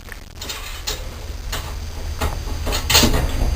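A divider support bracket being bolted to a welded tab inside a John Deere CCS tank: close metallic clicks and ratcheting ticks in a steady run, with a few sharper knocks, no speech.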